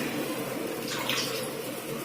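Water pours steadily from a vessel into a pot of Kavalai fish curry cooking with tamarind water, a close continuous splashing rush that briefly swells in the middle.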